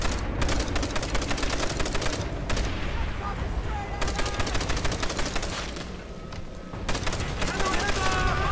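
Dense, relentless medium machine gun fire in a war video game, rapid bursts overlapping into a near-continuous roar for the whole stretch with only a brief thinning near the end, with voices faintly mixed in.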